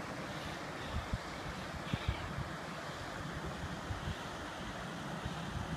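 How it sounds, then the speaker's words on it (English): Steady broadband rushing water flowing out of a mountain lake dam fills the clip, a continuous outdoor roar with wind buffeting the microphone and occasional low thumps. "Nice little flow of water coming out."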